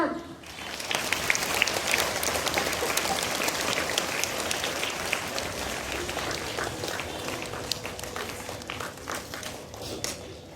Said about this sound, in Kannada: ಎಲ್ಲರೂ ಜೋರಾದ ಚಪ್ಪಾಳೆಯೊಂದಿಗೆ ಆರಂಭಿಸೋಣ